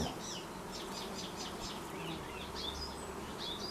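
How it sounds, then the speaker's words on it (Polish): A steady buzzing hum of many honeybees flying nearby, with faint bird chirps in the background. "Popatrzycie, jak teraz pszczółki sobie latają"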